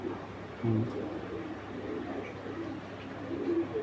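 Racing pigeons coo nearby, a few low throaty rolling calls rising over a soft murmur of birds, with someone talking faintly in the background.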